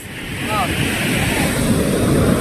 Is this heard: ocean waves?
yes